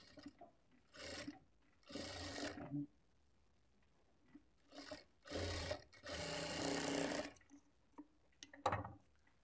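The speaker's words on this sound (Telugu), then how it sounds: "ఇప్పుడు ఇదే స్టిచ్ మీద ఇంకొక స్టిచ్ వేసుకోవాలి" A sewing machine runs a second row of stitching over the shoulder seam of a long Anarkali frock, in several short, close bursts of rapid mechanical whirring separated by quiet pauses.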